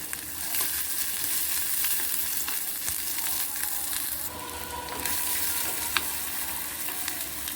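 Ginger and garlic frying in a pan, a steady close sizzle with faint stirring scrapes and an occasional small crackle.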